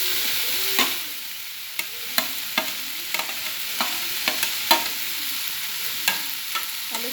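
Mashed potatoes fry with onion and tomato in a pan, a soft steady sizzle broken by a dozen sharp scraping and clinking stirs at irregular intervals, close and alone without any voices.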